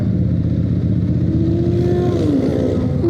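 A motorcycle engine drones steadily while being ridden on a road, a loud, continuous low rumble with a rising whine near the end.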